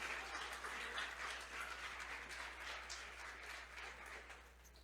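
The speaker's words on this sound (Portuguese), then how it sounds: "Você pode aplaudir o Senhor?" A church congregation applauds steadily during a sermon, a dense wash of many hands clapping that holds evenly for the whole stretch and fades only slightly at the end, with a low steady hum underneath.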